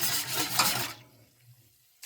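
Broth of Similac formula being whisked for a cordyceps culture, a busy wet liquid churning for about a second, then stopping to near quiet before a brief splash at the end.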